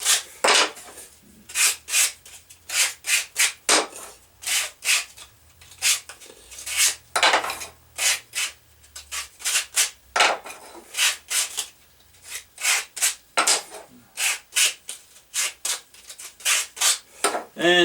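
Sandpaper rubs back and forth along a saw-cut wood edge to clear away fuzz, making a rapid series of close, scratchy rasping strokes in an uneven rhythm.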